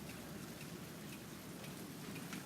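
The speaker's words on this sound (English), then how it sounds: "now it's raining out here." Steady rain falls outdoors during a thunderstorm, a faint, even hiss of drops on surfaces throughout, with no voices.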